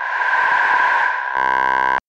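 A Waldorf Blofeld synthesizer speech patch has its breath controller changed, so a noisy breathy hiss gives way to a bright steady buzzing pitched tone, loud and alone, ending abruptly.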